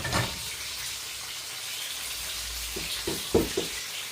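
A steady frying sizzle hisses throughout as a prawn and eggplant gravy cooks, with a few soft splashes and clatters near the end as water meets the hot pan.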